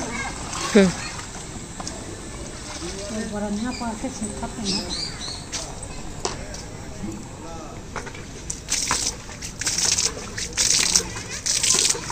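Water is splashed and sprinkled by hand in repeated irregular splashes and sloshes, close by and uneven in loudness, while people, including a child, talk over it.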